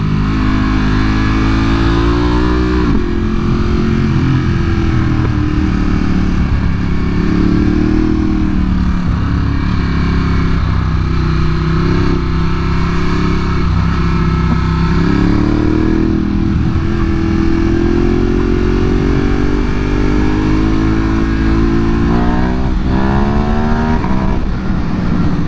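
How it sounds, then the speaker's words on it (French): Loud 2022 Ducati Hypermotard SP engine running continuously, revving up and down with rising and falling pitch and exhaust pops throughout, close by. "quand je vous dis que c'est une moto qui adore les pif-paf"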